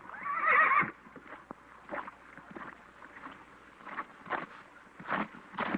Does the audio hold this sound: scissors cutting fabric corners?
no